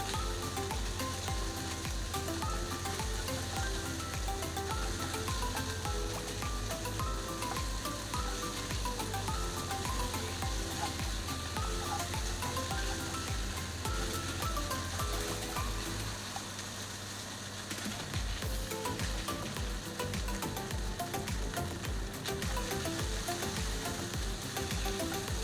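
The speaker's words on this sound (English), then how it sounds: "Add the garlic in. We add shallot in as well, and give them a good fry." Garlic and shallot frying in a pan for chicken noodles with spicy sauce, a steady dense sizzle running continuously at an even level throughout, with faint musical tones underneath and no talk.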